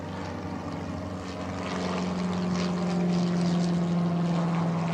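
A Piper Cherokee light propeller plane drones past at an airshow, a steady mid-distance engine hum that swells slightly louder over a few seconds.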